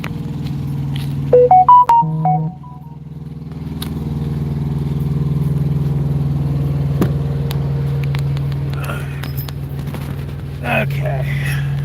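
A semi truck's auxiliary power unit runs with a steady, low, droning engine hum that holds evenly throughout, powering the cab's air conditioning, while someone talks over it and a few short chimes sound near the start.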